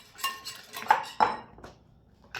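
Three eggs being beaten with sugar in a bowl, a utensil clinking and scraping against the dish in a few quick, close strokes with short pauses between them.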